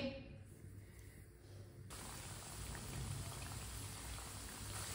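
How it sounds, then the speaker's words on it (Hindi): Chicken tikkis dropped into hot oil, a soft steady sizzle and crackle that swells after the first couple of seconds and then holds, close but quiet. "आप देख सकते हैं ऑयल हमारा गर्म हो चुका है। एक एक टिक्की डाल लेंगे।"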